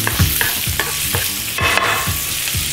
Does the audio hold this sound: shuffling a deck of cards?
no